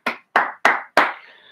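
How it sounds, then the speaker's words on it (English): A group of people in a calisthenics full-body conditioning class clap their hands at the end of a workout, four loud, close bursts of clapping in an irregular rhythm, the last one trailing off. "Give yourselves a clap."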